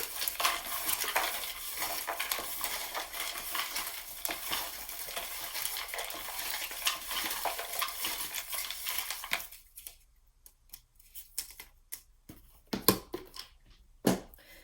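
Tarot cards shuffled by hand in a steady, soft riffling rush for most of the stretch, close and fairly quiet, then a few isolated taps and card slaps near the end.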